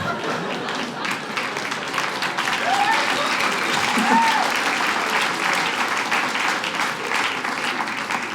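A comedy club audience applauds steadily throughout, a dense, loud wash of clapping from a live crowd with a few brief whoops mixed in.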